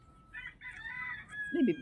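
A rooster crows nearby in a short, quiet, drawn-out call, heard alone in a calm setting.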